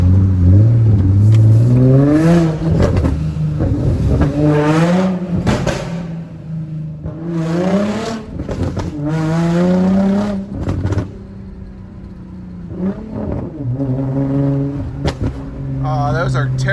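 Infiniti G35 coupe engine revs up hard and repeatedly, with each climb broken by a gear shift and a drop in pitch. The loud, close engine runs throughout in rising and falling sweeps.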